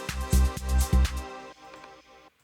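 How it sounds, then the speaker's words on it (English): Synthesized kick drum built from a sine-wave pitch sweep with a soft click sample layered on top as the transient, hitting in a short pattern of booming low thumps before fading out. "This is just a sample that I've laid on top of the sine wave pitch sweep"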